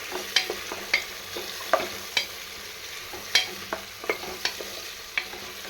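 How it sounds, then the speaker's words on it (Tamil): Onions sauté in a pan for coconut milk rice, with a spoon scraping and tapping in an irregular rhythm over a low, steady sizzle, close and with no voices. "வெங்காயத்தை சேர்த்துட்டு நல்லா வதக்கி விட்டுக்கலாம்."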